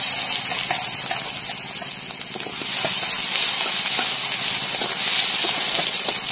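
Bay leaves, panch phoron spice mix and onion dropped into hot oil sizzle with a steady, loud broadband hiss that swells slightly partway through, with no talking.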